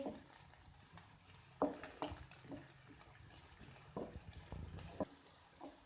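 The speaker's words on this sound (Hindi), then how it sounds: "प्याज को सुनहरी होने तक हम फ्राई करेंगे।" Quiet sizzling of onions frying in a pan until golden, with occasional scraping and stirring clatters over a soft continuous crackle.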